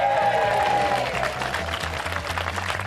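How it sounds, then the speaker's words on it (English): A crowd applauding and cheering at the RHS Hampton Court Flower Show, dense clapping at a steady loud level across the whole moment, with a brief higher tone near the start. "We've got a massive crowd."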